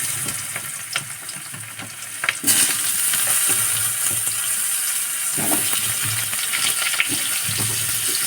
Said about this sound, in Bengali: আলু কটাকে ভেজে নেব।